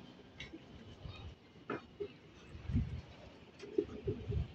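Soft racing pigeon coos repeat at a moderate distance over a faint outdoor background, with a few brief rustles and chirps mixed in.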